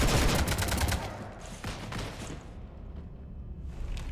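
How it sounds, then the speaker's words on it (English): Gunfire hits a ship in Mass Effect 3 as a loud burst of rapid shots that fades into lower rumbling debris and scattered bangs. No voices. "You want to stop shooting up my ship?"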